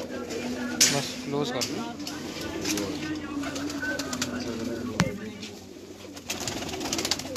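A Lakha pigeon coos in low, throaty rolls close by, mixed with wing flutters and handling noises while someone speaks briefly over it.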